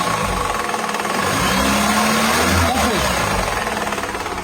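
A 4-cylinder car engine (VTi, THP or PureTech type) idling with a faulty accessory belt, giving a loud, steady mechanical drone with a rattling, whirring edge, close to the engine bay.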